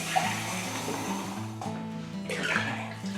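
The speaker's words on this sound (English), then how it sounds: "And then the next thing we need to add are 3 pints of cold tap water." Cold tap water pours steadily into a home beer-brewing vessel holding hot water, a close, continuous splashing gush that shifts in tone midway as the flow changes.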